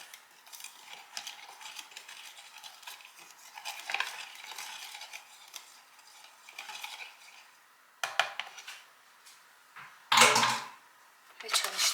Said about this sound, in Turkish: Biraz karıştıralım.